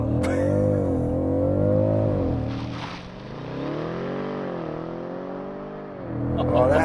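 BMW M550i twin-turbo V8 accelerating hard under launch control, a loud sustained engine roar rising in pitch, dipping at a gear change and climbing again, with people talking faintly over it.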